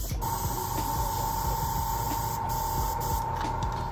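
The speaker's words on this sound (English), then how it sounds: "I put the wet rag over the top, and then I spray inside" Steady airbrush spray hissing into a cleaning jar covered with a wet rag, continuous with a constant tone and low rumble underneath, close and even throughout with no talking.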